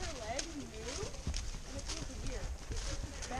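Faint, regular hoofbeats of a horse trotting along a woodland path, a soft rhythmic clip-clop running under close conversation between riders.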